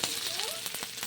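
Ginger paste sizzling in hot oil with fried onions while being stirred in a pan, a steady close crackle with a few scraping strokes of the spoon over just one second.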